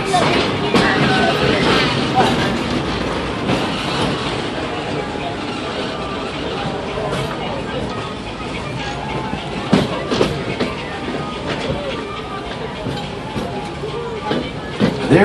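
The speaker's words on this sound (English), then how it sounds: "There are some who say that this steam train is a little old-fashioned" Magic Kingdom steam train rolling on its rails, a steady loud rumble with clattering wheel clicks from inside a passenger car, with a murmur of riders' voices throughout.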